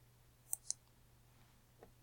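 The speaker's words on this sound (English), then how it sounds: "Click." A computer mouse gives two quick, sharp clicks close together, followed by a fainter click a moment later, against a quiet room with a low electrical hum.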